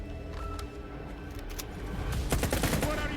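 Gunfire in S.T.A.L.K.E.R. 2 rattles in the distance at first, then swells into a dense, louder burst of rapid automatic shots toward the end, with no one talking.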